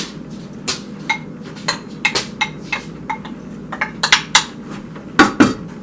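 Extra sharp cheddar and mozzarella being stirred into a pot with a utensil, giving irregular metallic clinks and scrapes against the pot, some sharp and close, over a low background.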